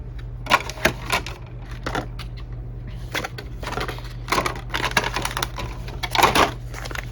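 Hard plastic miniature pieces being handled and snapped together, a series of close, sharp clicks and rattling taps in irregular bursts over a steady low background hum.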